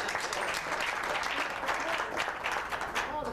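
An audience at a David Roth Stars of Magic coin-and-tuning-fork performance breaks into steady, dense applause, sustained throughout with some voices mixed in.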